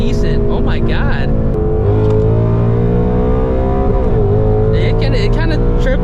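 A loud E85-tuned Ford Mustang GT S650 with a 10-speed gearbox accelerates hard in second gear with the tire spinning. The engine roar rises and shifts steadily throughout, while people talk over it inside the car.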